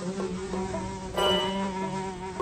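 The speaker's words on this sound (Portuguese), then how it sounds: "Ah, essa mosca chata tá atrapalhando." A fly buzzes steadily and close in a cartoon setting, a continuous droning whine that swells briefly louder midway through.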